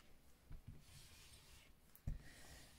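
A folded paper card is burnished with a few soft, faint rubbing strokes and a couple of brief scraping pushes in a quiet room.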